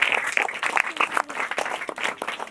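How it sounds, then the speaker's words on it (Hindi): A small group of students claps for a classmate in a classroom, quick uneven hand claps of moderate loudness continuing throughout. "इसके लिए जोरदार तालियां होना चाहिए।"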